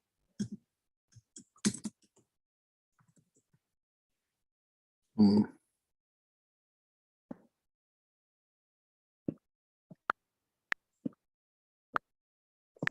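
Sparse keystrokes on a computer keyboard during a college algebra class, isolated clicks and taps spaced irregularly with long quiet gaps, close and fairly soft.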